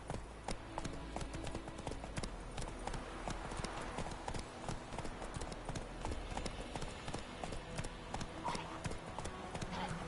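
Horse hooves clip-clop at a steady trot as Roach is ridden in the video game The Witcher 3, a close, continuous rhythmic beat running through the whole stretch with faint talk around it.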